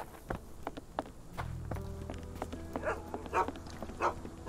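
Two dogs bark in the Sherlock Holmes: The Awakened video game, sharp barks scattered at close range over a faint steady hum and light shuffling steps.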